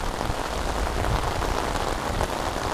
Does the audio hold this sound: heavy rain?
yes